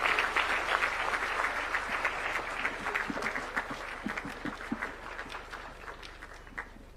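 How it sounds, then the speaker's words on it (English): Applause from an audience at a national prayer breakfast as President William Ruto is welcomed, moderately loud at first and gradually thinning, with some scattered claps near the end. "Please, a round of applause for His Excellency the President."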